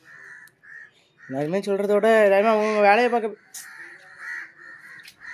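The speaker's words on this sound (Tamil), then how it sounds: "காக்கா வர கத்திக்கிட்டே இருக்குது." A crow caws loudly and close by in a long, harsh, drawn-out call, with someone speaking Tamil before and after it.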